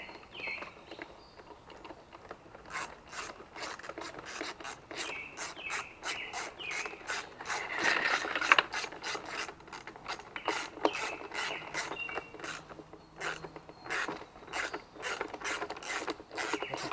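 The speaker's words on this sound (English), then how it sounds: "All right, we got the cover back on, and now we're putting the screws back in it." Rapid ratcheting clicks come from sheet metal screws being driven into the plastic cover of a Troy-Bilt four-cycle leaf blower, repeated in quick runs, close and fairly quiet, no talking.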